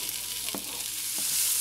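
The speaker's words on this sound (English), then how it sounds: "onion and garlic. Nice sizzle." Soft, steady sizzling of onion, garlic and turkey sausage frying in a pan, with a couple of faint stirring clinks, no voices.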